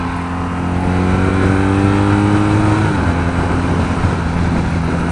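Steady engine drone from a 2016 BMW R nineT motorcycle cruising at 60 mph in third gear, with harmonic engine tones that dip slightly partway through, under constant loud wind rush and road noise.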